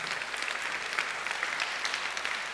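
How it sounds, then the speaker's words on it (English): An audience at a business conference plenary applauds the event's media partners, a sustained, even patter of many hands clapping at moderate volume with no voices over it. "A huge applause for all of them."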